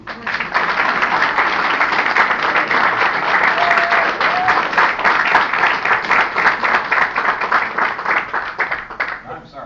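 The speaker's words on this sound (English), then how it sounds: "Let's give him a big round of applause and see." Wedding guests burst into a sustained round of applause, dense steady clapping filling the space for nearly ten seconds at close range before tapering at the end.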